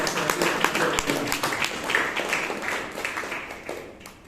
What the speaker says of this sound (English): give a big round of applause to our presiding officer